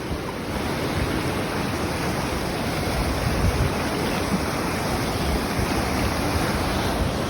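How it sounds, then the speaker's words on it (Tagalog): Powerful flood water during heavy rain, rushing in a constant loud, roaring torrent close by, buffeted by gusts of wind noise against the microphone. "Sobrang lakas ng baha."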